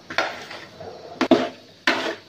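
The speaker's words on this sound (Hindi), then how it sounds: "ऐसे भूनते रहें इसको जब तक इसका ये सूजी का कच्चापन खत्म हो जाएगा" Semolina for milk halwa is roasted and stirred in a pan, making three or four scraping clinks of a utensil against metal, close and fairly loud, with quiet pauses between strokes.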